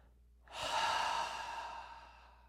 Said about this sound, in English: give some nice long exhales